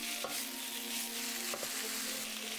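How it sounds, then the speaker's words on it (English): Beef cubes for Cambodian shaking beef sear in a hot pan with a steady, bright sizzle, broken by a couple of scraping stirs, close and with no talking. "Allow it to sear. Shake"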